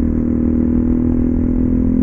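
A motorcycle engine idling steadily, a loud, close, low rumbling drone that stays even and constant throughout with no revving.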